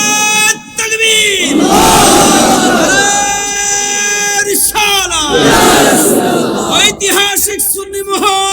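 A large crowd at an Islamic religious gathering roars back in unison after a takbir call, two long swelling chants of massed voices, loud and close, with amplified shouting over the top.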